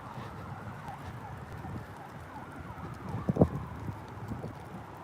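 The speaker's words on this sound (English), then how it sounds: "And there's a fire truck siren now." A fire truck siren wails in wavering tones through steady traffic noise, moderately distant, with a couple of sharp knocks partway through.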